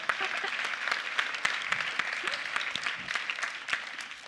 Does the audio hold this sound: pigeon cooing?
no